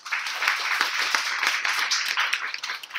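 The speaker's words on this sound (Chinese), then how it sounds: "我们再以最热烈的掌声再感谢他一下" A roomful of attendees at a WordPress community meetup gives a steady, fairly close round of applause to thank a speaker.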